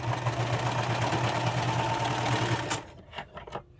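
A sewing machine stitches fabric for a Book Club top, a steady close mechanical whir that runs for almost three seconds and then stops abruptly, leaving a few faint handling clicks.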